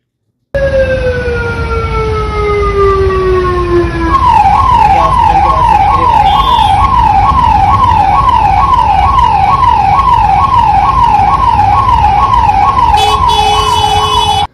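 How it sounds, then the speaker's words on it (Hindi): An ambulance siren wails continuously near Golconda, where the ambulance sits stuck in a traffic jam; it starts as a long falling tone, then switches to a fast, steady warbling yelp, loud and close over a constant hum of traffic. "आधे घंटे तक एम्बुलेंस फंसी रही ट्रैफिक में"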